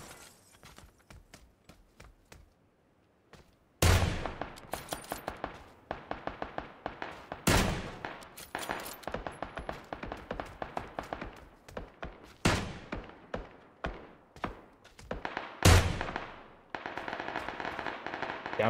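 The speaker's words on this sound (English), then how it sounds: "Taking shots." PUBG video game gunfire: repeated bursts of close, loud automatic fire in rapid rhythmic strings, broken by several heavier single blasts and brief pauses, with a few quieter distant shots early on.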